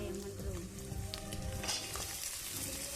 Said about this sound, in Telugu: పక్కన కట్ చేసి పెట్టుకున్న క్యారెట్, ఆనియన్, పచ్చిమిర్చి, గ్రీన్ క్యాప్సికమ్ వేసుకొని కలుపుకోవాలి